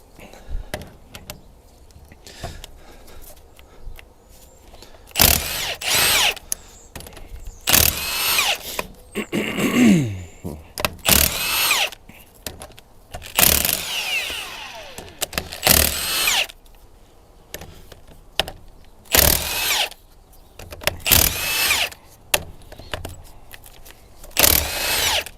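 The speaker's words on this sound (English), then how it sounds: "So we just remove all the bolts from the outer section." A power tool spins out bolts from the outer section of a Bobcat drive motor during disassembly, in a string of loud whirring bursts separated by handling clatter and quieter gaps.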